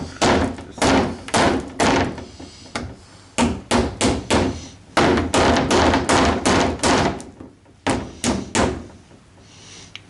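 Repeated sharp hammer blows punching a bolt out of a car's front splitter on an R32 Skyline GTS-T, struck in quick bursts of metallic thuds with brief pauses between groups, close and loud.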